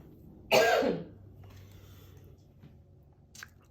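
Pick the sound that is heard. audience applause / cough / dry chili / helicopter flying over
cough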